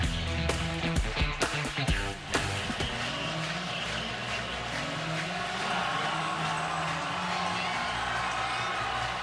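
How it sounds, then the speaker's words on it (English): A college football stadium crowd roars as Clemson scores a touchdown against Syracuse in 2018. A dense, sustained wall of cheering follows a few sharp bangs at the start, loud and unbroken to the end. "Crowd was flat when the Clemson offense came on the field for the last drive, down by 10, but they're back fully engaged in this raucous venue"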